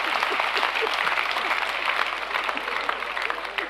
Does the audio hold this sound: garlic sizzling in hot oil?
no